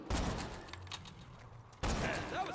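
Gunfire in the video game Borderlands 2 comes as a dense, loud burst of rapid shots, then a short lull and another sustained volley, heavy and continuous with a booming low end.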